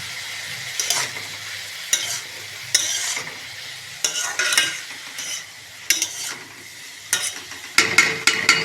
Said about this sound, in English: Keep on stirring and then cover it for 5-10 minutes so that it gets boiled up.